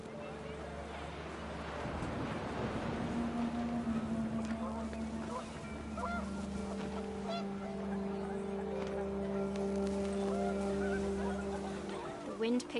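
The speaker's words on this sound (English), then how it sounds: "The wind picked up, and panicked geese appeared and quickly went." Panicked geese honk in the video game What Remains of Edith Finch, a cluster of faint, scattered calls under rising wind and a low drone, with narration running alongside.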